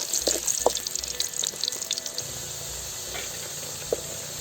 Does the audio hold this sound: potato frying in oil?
yes